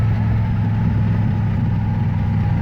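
A V8 car running on a lawn mower carburetor gives a loud, close, steady low engine drone with a slight rumble; no distinct shift in pitch stands out.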